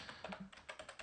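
Password typed on a computer keyboard, a quick run of close, light key clicks in an even rhythm, about eight strokes.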